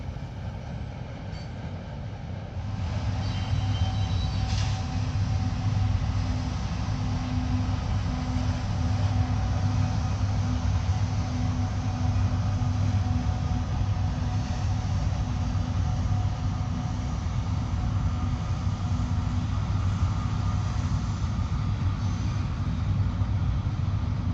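A train passes by at a rail line, giving a steady, loud low rumble with wheel and track noise that swells after the first few seconds and holds for the rest of the clip.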